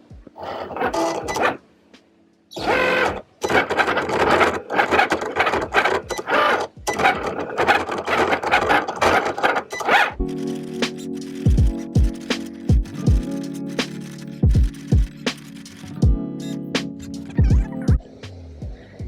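A Cricut cutting machine set to fast mode slices vinyl with a loud, steady motorized whir broken by rapid stop-start bursts and carriage movements, heard alone without speech.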